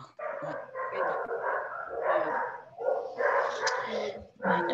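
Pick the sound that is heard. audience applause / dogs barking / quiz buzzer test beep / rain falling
dogs barking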